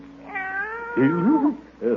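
A house cat named Aesop meows in a long, rising and falling cry, loud and close, on a 1940s radio comedy, with a second shorter meow at the end.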